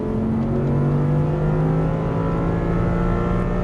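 An Audi R8 V10 on a race track pulls hard under throttle, its engine droning loud and close with steady, slowly rising harmonic tones and no letup.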